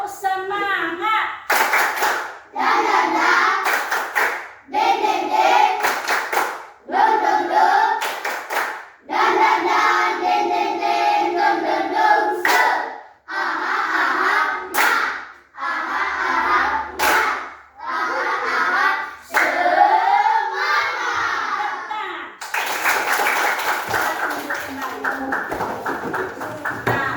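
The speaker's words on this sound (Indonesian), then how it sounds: "Tepuk semangat." Schoolchildren in a fifth-grade class perform a rhythmic spirit clap together, bursts of patterned group clapping with shouts and chanting voices, loud and close, repeated in several rounds over about half a minute.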